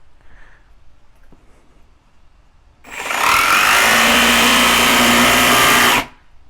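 A Milwaukee M18 Fuel brushless D-handle cordless jigsaw cuts through wood, starting after a quiet pause and roaring loud and steady for about three seconds before stopping abruptly.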